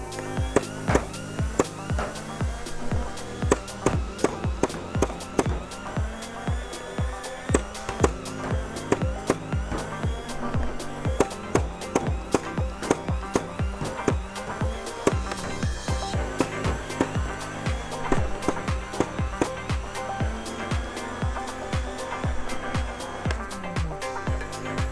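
Adventure Force Monolith toy blaster fires in rapid, repeated bursts, a dense run of sharp mechanical clicks and thumps over a steady motor whir, close and fairly loud with no talking.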